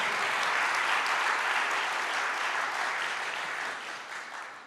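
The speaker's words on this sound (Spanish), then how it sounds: "Pero un aplauso al Señor." A church congregation applauds during a sermon, a broad, dense wash of many hands clapping that swells early, holds steady, then gradually tapers off toward the end.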